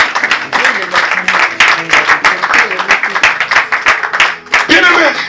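A church congregation at prayer applauds and cheers God, with continuous loud clapping from many hands and excited voices mixed throughout.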